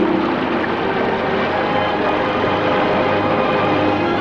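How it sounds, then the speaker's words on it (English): A waterfall seen from a cave opening above a valley, a loud, steady broadband rush of falling water that holds evenly throughout with no pauses. "The waterfall."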